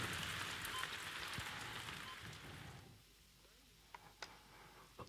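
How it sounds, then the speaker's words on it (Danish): Steady rain hisses and patters for the first three seconds, then fades out, leaving near quiet with a few isolated ticks. "Ja, der var også lidt regnvejr,"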